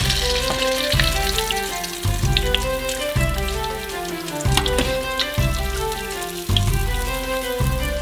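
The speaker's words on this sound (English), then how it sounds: "It's time to deep fry them." Large onion rings deep frying in hot oil give a steady, dense sizzle that runs the whole time beneath prominent background music.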